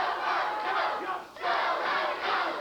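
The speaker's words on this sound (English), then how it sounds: "The crowd, a little bit of an interactive crowd today, urging on Lawler" Wrestling arena crowd roaring and chanting in support of Jerry Lawler, a loud sustained wall of cheering that dips briefly midway then swells again.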